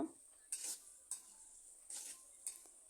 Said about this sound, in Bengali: লবণ হলুদের গুঁড়ো দিয়ে আমি পেঁয়াজ কুচি ভালো করে ভেজে নেব